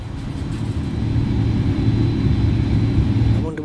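Boeing 737-800 engines in Microsoft Flight Simulator give a loud, steady low rumble and drone that runs unbroken for a few seconds.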